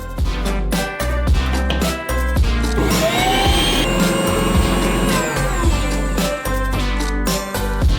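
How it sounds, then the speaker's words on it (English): Blender pureeing seedless watermelon flesh, a loud continuous motor whir that pulses and shifts pitch as the contents churn, close and alone with no talk. "and put the flesh into a blender"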